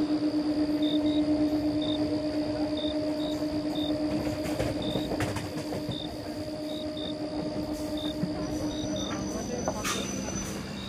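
Howrah–Katwa local train running, a steady rumble with a constant hum and faint repeating electronic beeps throughout, a voice faintly under it.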